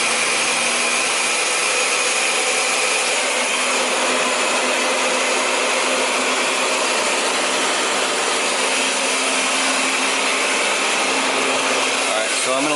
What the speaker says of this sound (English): I'm turning this on full blast. Okay, match the arrows. I like this blender a lot.